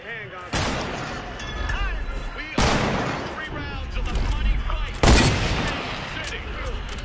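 Sniper gunfire in the Fortnite video game: three sharp, loud shots spaced about two seconds apart, each with a lingering tail, amid continuous game noise and background talk.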